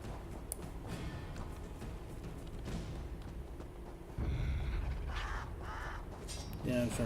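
Crows cawing in the fantasy game Elder Scrolls Online: Elsweyr, a few harsh calls over a steady game ambience with footsteps and music beds, moderately loud and closer near the end.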